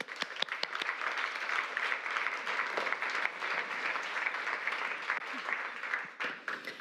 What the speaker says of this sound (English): A huge applause for Cara Daggett